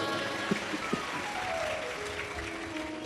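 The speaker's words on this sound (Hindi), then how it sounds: "एक बार जोरदार ताली बजाओ" Applause from a crowd at a live religious discourse, a dense wash of clapping with a few sharper claps standing out, steady throughout.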